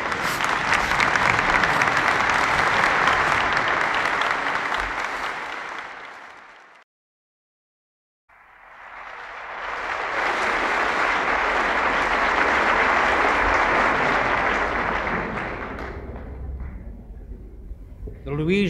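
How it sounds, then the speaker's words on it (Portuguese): An audience applauds at a spoken-word poetry recording, with sustained, dense clapping that breaks off briefly, then swells again before fading out. "Meus senhores e minhas senhoras, de pé, uma salva de palmas a João Vilarejo."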